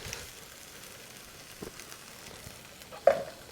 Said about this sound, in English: And you can hear that slight sizzle.